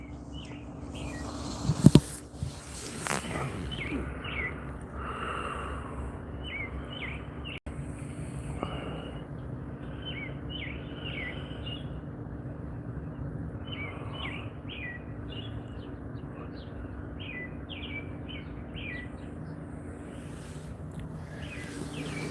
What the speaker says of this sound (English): you guys obviously hear the birds. They're right behind me.